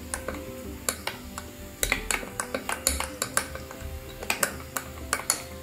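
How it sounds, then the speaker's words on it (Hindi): Spices being stirred in a cooking pan for black chana masala: a metal spoon clinks and scrapes against the pan in an irregular series of sharp, close taps, heard alone without talk. "मसाले को हम मिक्स कर लेंगे एक अच्छा सा"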